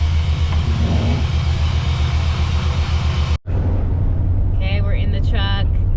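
Inside a truck cab while driving on the road, a steady low engine and road rumble fills the space, cut briefly by a sharp break before the drone resumes with voices talking over it.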